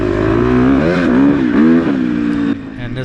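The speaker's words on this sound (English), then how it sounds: "this bike has that magical exhaust note for me" A dirt bike engine revs up and down close by, its exhaust note rising and falling in several sharp pulls before it drops to a lower idle near the end.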